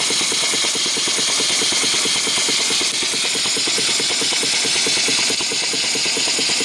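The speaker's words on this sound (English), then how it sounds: "That's good, good running engine." A steam engine on its first run after boiler firing, with the steam oiler on, chugs steadily with a fast, even rhythmic beat, loud and close, with a constant hiss over it and no talk.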